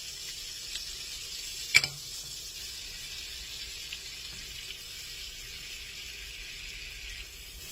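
Butter and flour roux cooking in a pan for gravy, giving off a steady, soft sizzle with one sharp clink partway through and no talking.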